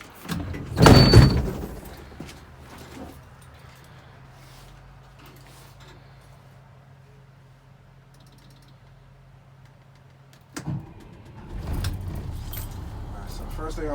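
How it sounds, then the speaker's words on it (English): A door on a commercial Class B vehicle swings shut with a loud, close thud and rattle, followed by quieter handling noises and a later second bump, while someone talks nearby. "Watch that door. It's gonna close."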